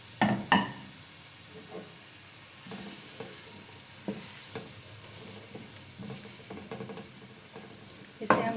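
Three medium onions fry in oil, giving a low, steady sizzle broken by scattered clicks and scraping stirs, close by and fairly quiet, with no talking.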